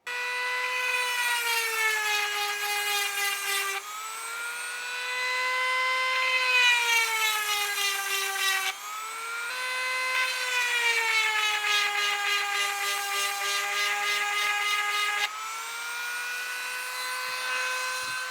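A diamond EzzDoo sharpener grinds a chainsaw chain in a steady high-pitched whine, broken into four long passes with short pauses between them, loud and close with no talking.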